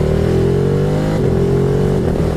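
A Ducati Hypermotard 950 SP with its 936cc twin-cylinder engine revs loud and close, a steady throaty roar with a slightly falling pitch held throughout, with no voices over it.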